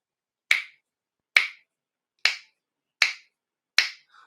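Five sharp finger snaps sound in isolation, spaced a little under a second apart, each a bright close crack that dies away quickly, followed by a faint trailing noise.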